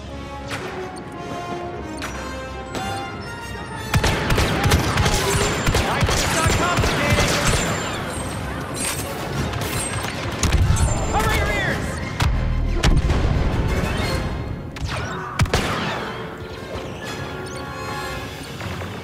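Blaster fire in the Star Wars Battlefront II video game, dense bursts of rapid shots and crashes layered with explosions and battle noise, loud and continuous, with voices over it.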